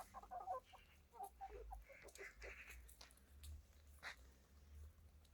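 Selebris breed chickens give soft, scattered clucks and short calls, faint and somewhat distant over a low background rumble, with irregular sparse bursts.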